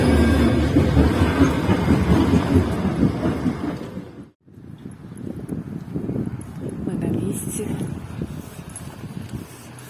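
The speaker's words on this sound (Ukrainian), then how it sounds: "Трамвайчик." A tram rides through Bratislava, rumbling and clattering loudly nearby before cutting out for a moment, then rolling on again at a slightly lower level.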